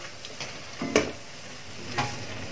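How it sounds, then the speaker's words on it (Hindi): Masala of garlic, ginger and onion frying in a pan over low-medium heat for drumstick curry, a steady soft sizzle broken by a few scraping strokes of a ladle stirring. "अब इन सबको अच्छे से भून लेंगे।"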